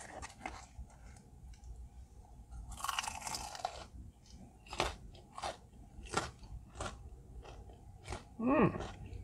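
Close, loud crunching and chewing of a Panda Express egg roll, a burst of crisp bites followed by repeated sharp crunches and moist chewing, with no talk.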